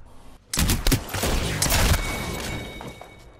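Rapid gunfire bursts in Apex Legends, loud and close, firing in a dense volley of shots over about three seconds after a brief quiet start, with faint game sounds beneath.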